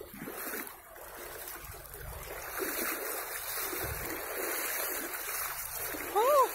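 Sloshing, splashing footsteps in boots through street flood water, with a steady watery wash throughout and a sharper splash near the end.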